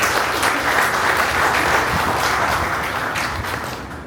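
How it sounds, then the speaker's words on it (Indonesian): Audience applause at a business testimonial event, a dense wash of clapping from a sizeable crowd, loud and continuous and easing off slightly toward the end, with no talk over it. "Beri tepukan untuk dia."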